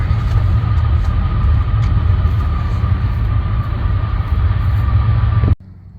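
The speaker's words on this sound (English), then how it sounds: "Right now I'm just trying to get this motor to spin over." A four-wheeler ATV's starter motor cranks the engine in one loud, continuous droning whir with a steady whine on top. It runs for several seconds without catching, then stops suddenly.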